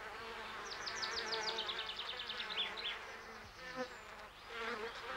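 Bees buzz busily at close range on the tiny flowers of an umbel, their droning rising and falling in quick overlapping swells with no voices.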